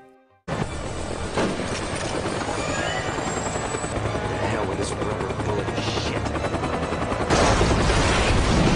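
A loud helicopter roars continuously nearby, rotor noise mixed with bursts of gunfire and a voice speaking over it.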